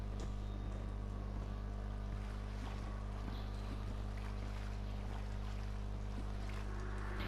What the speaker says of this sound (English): the faint wind blowing in this is just making me notice how cold it is